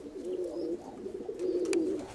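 Pigeons coo in a soft, throaty rolling call, two drawn-out phrases close by, with a faint higher chirp in between.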